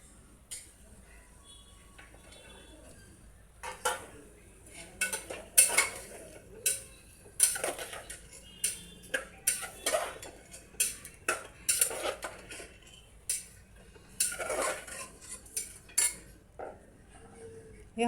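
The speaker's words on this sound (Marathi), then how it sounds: "पूर्णपणे हलवून घ्यायचं आहे।" A spoon stirs peas, cauliflower and potatoes in a metal pot for spiced rice, making intermittent clinks and scrapes in irregular bursts against a quiet background.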